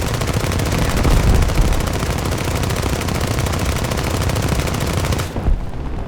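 Sustained rapid machine-gun fire from War Thunder, a continuous dense rattle of shots for several seconds that cuts off abruptly near the end, with no speech.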